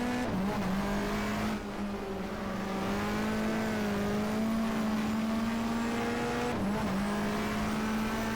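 Race cars from the 1994 Australian Manufacturers Championship at Winton in the GTR2 racing game: a close, loud, steady engine drone holds a constant pitch, dipping briefly at two gear shifts, with no talk.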